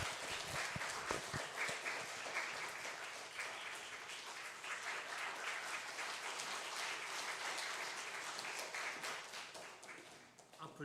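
Sustained applause from a church congregation during a Sunday morning service certificate ceremony, dense steady clapping throughout with some voices faintly mixed in.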